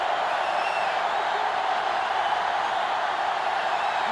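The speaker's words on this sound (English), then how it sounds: "This sellout crowd is really making a difference now as these guys can't even call the play" A sellout stadium crowd roars in NCAA Football 2005 on Gamecube, Ohio State facing Alabama, a dense, constant wash of noise with no breaks.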